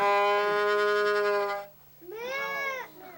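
A bowed string draws out a long, sustained tone, then a brief bending wail, imitating a cow's moo; close, fairly loud, no talking.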